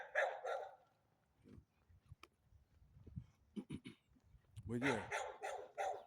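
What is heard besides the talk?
German Shepherd dog barking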